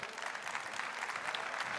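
Steady applause from an audience at a nursing debate event as a guest is called to the stage, dense and even throughout the short stretch with no voices over it.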